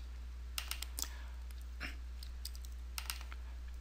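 Soft keystrokes on a computer keyboard enter a short string of digits into a form, a few quick clustered taps separated by pauses over a low steady hum, quiet and close.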